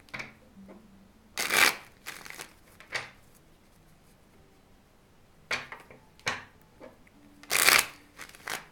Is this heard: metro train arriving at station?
no